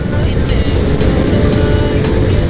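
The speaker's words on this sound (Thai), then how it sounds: "เร่งขึ้นดีมากเลย อันนี้ท่อโดนจริงเหรอเนี่ย" A motorcycle engine accelerates on a newly opened road in Phayao, Thailand, a loud, close, continuous roar that holds strong for the whole short stretch.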